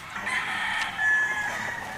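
A pure bulik gamefowl rooster crows at a farm, a sustained bright call running across the whole two seconds, close and fairly loud, with no talking over it.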